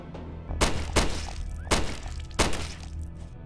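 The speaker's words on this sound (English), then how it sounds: "Might as well just reload" Weapon reload in the video game Primal Fears, four heavy mechanical thunks and clacks spaced over a few seconds, loud and close over a low game hum.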